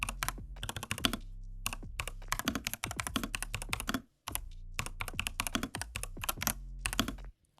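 An EPOMAKER TH80 Pro 75% mechanical keyboard is typed on one-handed, giving a close, steady run of clicky, smooth keystrokes with one brief pause, and no one talks.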